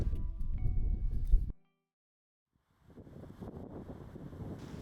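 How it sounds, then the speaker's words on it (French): Gusty wind in Bolivia buffets the microphone in broad rumbling bursts, cuts out briefly to near silence, then returns as a steadier, softer rush. "il y a du vent"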